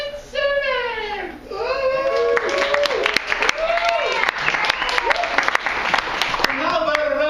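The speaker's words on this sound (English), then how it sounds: "Let's hear it for Nate Simmons" Audience applause for a performer at a telethon-style show, a steady bed of clapping running throughout with excited voices, shouts and a child's high-pitched cries riding over it.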